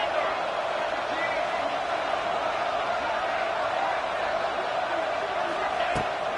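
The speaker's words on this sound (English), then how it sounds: "this crowd is electric trying to stop them" A football stadium crowd during a Notre Dame versus Michigan overtime two-point conversion roars continuously, a dense, steady wall of cheering with a commentator's voice over it.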